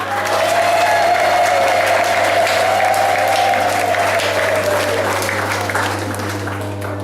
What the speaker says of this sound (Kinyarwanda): ntabwo mwahereza Imana amashyi n'impundu?